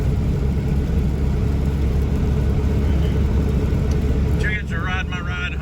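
A standard-transmission car drives along a rural farm road, giving a steady close engine rumble and road noise throughout, with a brief higher whine near the end.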